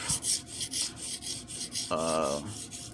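A blade strokes back and forth over a fine-grit sharpening stone, a steady rhythm of close, gritty rasps with no talking.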